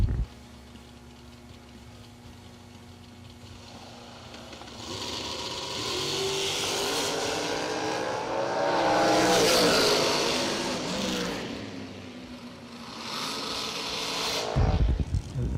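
Drag race cars launch down the lanes at a season kick-off event, building from a distant hum into a loud roaring surge that swells and fades, then a sharp cut near the end, heard under faint crowd noise.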